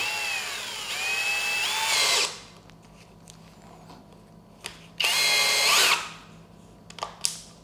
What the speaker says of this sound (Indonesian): Sekarang kita coba ngebor.